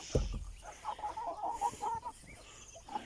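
Young pullets and hens clucking softly in a backyard coop, a run of short, low clucks after an opening thump, faint and fairly close, with no talk.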